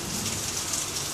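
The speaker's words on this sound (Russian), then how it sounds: "Видишь, себе какой дождь? Сильный дождь." Heavy rain pours steadily and loudly, a dense, continuous hiss of drops drumming on surfaces nearby, with no voices.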